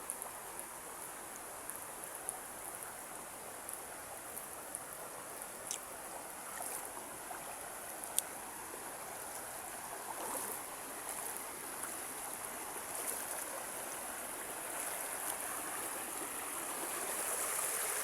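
Clear water of a river at Blue Rock flowing steadily, a broad, even wash of rushing stream noise throughout with no talk.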